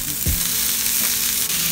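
Chopped chorizo sizzles loudly with onions in a hot pan for street-style tacos, a dense continuous frying hiss with a couple of low thumps of stirring, close up and without talk.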